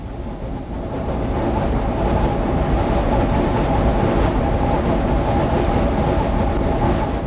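Union Pacific Challenger 3985 steam locomotive pulling upgrade on the 2.2% Cajon Pass climb with the throttle opened, a loud, steady rumbling roar of rolling train and working engine that swells slightly after the first second and holds constant.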